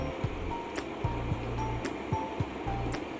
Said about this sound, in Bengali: আর এইভাবে ভেজে নিচ্ছি। তো খুব লো ফ্লেমে ভাজতে হবে।